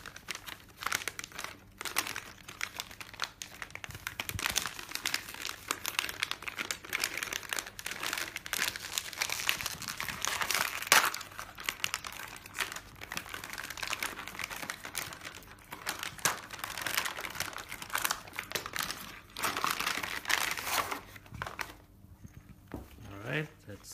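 Packaging crinkles and crumples steadily as a Zungle Panther audio sunglasses box is opened, with soft tearing and rustling close up throughout and brief speech over it.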